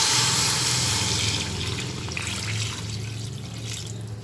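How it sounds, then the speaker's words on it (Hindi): Water pours steadily into a pot of cooked-down tomatoes for chicken pulao, a loud continuous splashing gush that gradually eases, with no talking. "तब हम इसमें डाल देंगे पानी।"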